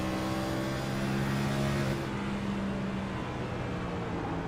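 Race car approaching a turn, its engine a steady loud droning hum with harmonic tones that ease off partway through as the driver lifts and coasts, no voices.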